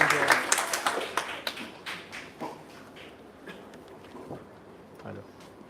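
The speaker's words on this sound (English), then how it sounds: "The clapping should not come only from one corner of the room, but from all corners." Applause in an office townhall room: a burst of hand clapping that is strongest at the start and then thins into scattered claps, heard close and alone.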